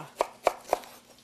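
A knife cuts up leeks on a board in three crisp, evenly spaced chops, close and clear with no voices.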